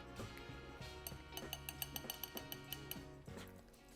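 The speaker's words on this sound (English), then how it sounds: "So I'm just gonna give it a light beat. Whisk it away." A whisk beats eggs in a bowl for a sweet potato casserole, giving a quick, steady run of light metallic clinks against the bowl that rises to a brisk rhythm and then trails off, close and fairly quiet.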